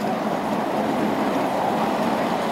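A train on the Galston Valley heritage railway rumbles steadily close by, giving a dense, continuous rolling noise with no voices.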